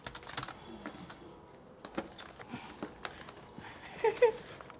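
Quick, uneven keystrokes on a computer keyboard in an office, with scattered clicks throughout and a denser burst of taps near the end.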